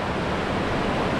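Johnston Canyon Upper Falls roars as a steady, dense wash of falling water, loud and unbroken for a brief moment, with no voices.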